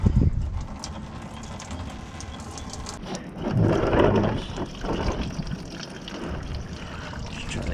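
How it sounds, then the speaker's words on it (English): Engine coolant drains steadily from under a vehicle into a small drain bucket during mobile mechanic work on a suspected stuck-relay fault, a continuous liquid splashing and trickling that swells midway, with no talk over it. "now I can drain the coolant"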